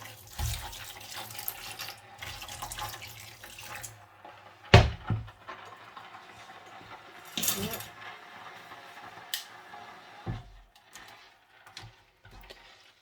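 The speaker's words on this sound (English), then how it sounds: "I think what I'm going to do is add a bit more water to this." Water poured from a tap into a pot for dyeing yarn, several short bursts of splashing and running water separated by quiet gaps, with clinks of metal and dishes between them.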